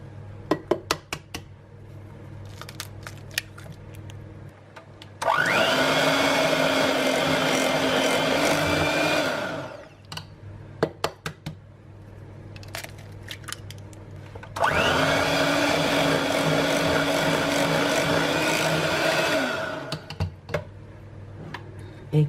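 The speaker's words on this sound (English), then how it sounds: "now we'll whisk in the eggs one at a time." An electric whisk beats eggs into keto chocolate cheesecake batter, running in two loud, steady whirring bursts of about five seconds each, with clicks and clinks against the bowl in the pauses.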